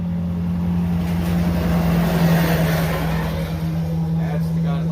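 A loud truck rumbles past outdoors, a steady engine drone with a strong low hum that swells slightly mid-pass, while someone talks over it.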